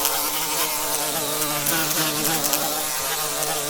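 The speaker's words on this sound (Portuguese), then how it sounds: "dormir com barulho de mosca já é ruim" Flies buzzing steadily and close, a dense continuous insect drone with shifting pitch that fills the whole stretch, with no voices.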